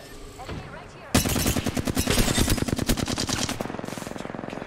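Loud, rapid automatic gunfire in the Apex Legends battle royale game, a dense burst of close shots that keeps going and eases slightly toward the end, following a brief stretch of quieter game sounds.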